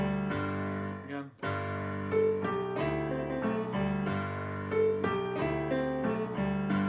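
Solo piano plays a New Orleans riff, a rolling variation that comes down the keyboard with rhythmic chords and bass notes, close and clear, with a brief pause near the start.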